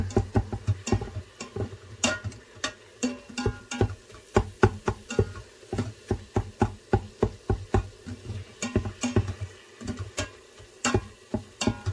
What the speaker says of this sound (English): I'll go through and completely chop that up.